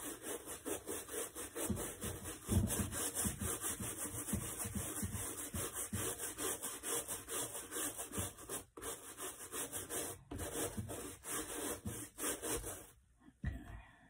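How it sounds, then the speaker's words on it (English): A hard bristle brush scrubbing a surface during an in-depth cleaning, steady rapid back-and-forth rasping strokes close up and fairly loud, continuing for most of the time before stopping near the end. "Move on to the hard bristle brush here."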